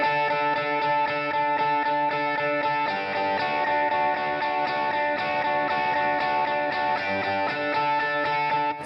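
An electric guitar plays sustained, ringing chords with crisp rhythmic pushes, the strums accenting just ahead of the beat; it sounds loud, close and alone, with no talking.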